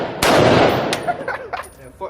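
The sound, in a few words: AR-10 rifle gunshot at a shooting range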